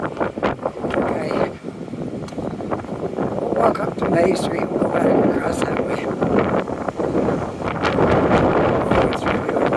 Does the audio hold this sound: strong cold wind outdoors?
yes